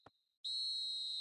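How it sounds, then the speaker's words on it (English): A referee's whistle in the eFootball 2026 football video game blowing for half-time, a brief chirp followed by a loud, sustained shrill blast. "Referee's had a look, and he's blown his whistle for half-time"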